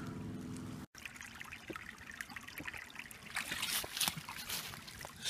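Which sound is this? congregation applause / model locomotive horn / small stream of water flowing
small stream of water flowing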